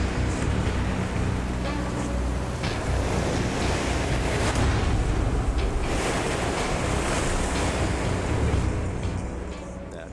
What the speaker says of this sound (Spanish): el viento soplaba muy fuerte